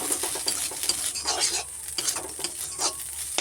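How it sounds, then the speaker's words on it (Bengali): Maggi noodles with masala stirred in a pan over heat, a spatula scraping in quick repeated strokes over a soft, constant sizzle, close up and with no talking. "ম্যাগি মশলাটা দিয়ে এটাকে নাড়াচাড়া করে নিচ্ছি একটু।"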